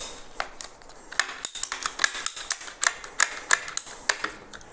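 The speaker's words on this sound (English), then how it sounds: "you will use a special cutting tool, which allows you to allow you to cut it in the" A special cutting tool works through a pipe for a dry cooler connection on a DCX immersion mining enclosure, giving a series of sharp, crisp clicking snips in an uneven rhythm, close and fairly loud with no talk.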